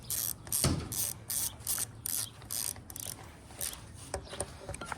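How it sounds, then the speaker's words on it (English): A ratchet snugs the cylinder head bolts on a 2022 GasGas/KTM/Husqvarna 125 two-stroke top end in close, rapid clicking bursts, each separated by short pauses as the wrench moves from bolt to bolt. "We'll go ahead and take our normal ratchet before we put on our torque wrench."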